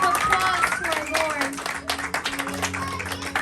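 A church congregation breaks into applause, clapping mixed with crowd voices and talk over the top, the clapping scattered and uneven throughout.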